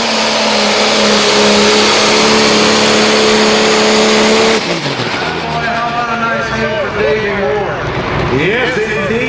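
A Super/Pro Stock pulling tractor at a Frederick, Maryland pull roars loud and close at sustained high revs, then drops off to a lower, wavering engine note as an announcer talks over it.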